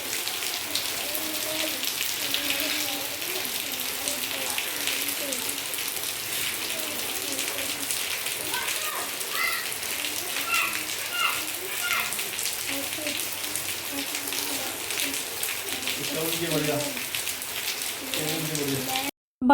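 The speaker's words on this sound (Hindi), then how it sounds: "और शाम को फिर असर के टाइम अचानक से बारिश स्टार्ट हो गई।" Sudden evening rain falling steadily, a dense even hiss of drops on surfaces throughout, with faint voices and household sounds underneath.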